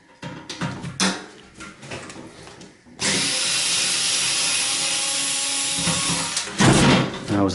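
Power drill running at close range as screws are backed out of a microwave being scrapped for copper and metal, with brief tool clatter first, then a steady sustained whir for about three and a half seconds before clunks of handling.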